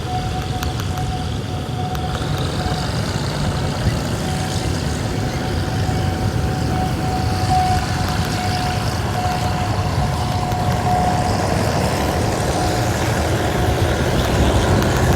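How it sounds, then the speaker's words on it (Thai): Thai railway diesel locomotive GEK 4026 pulls train 260 away from the Song Phon halt, giving a steady low engine rumble with a thin sustained whine that holds throughout, fairly close and without pauses. "ตอนนี้กำลังเคลื่อนขบวน ออกจากป้ายหยุดรถทรงพลนะครับ"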